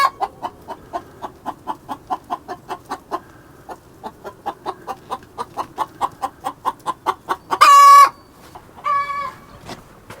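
Chickens in a farm coop cluck in a steady, rhythmic run of short calls. Near the end comes one loud, drawn-out call and then a shorter one.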